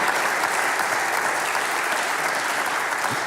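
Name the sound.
studio audience applause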